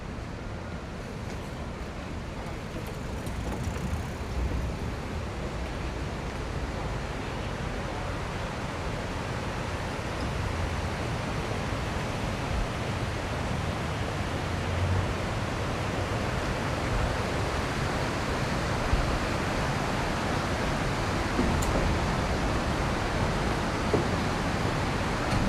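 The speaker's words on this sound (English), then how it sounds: "Usually when I come out there, I could just stay right by the water and just listen and just watch and just listen to the water" Water rushes steadily along a riverside in downtown Richmond, Virginia, a dense, continuous broadband roar heard close and fairly loud for the whole stretch, with no talking.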